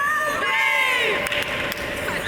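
Youth cheering squad chanting and shouting at an 18U boys' lacrosse game, a loud sustained crowd of young voices with whoops, close and continuous.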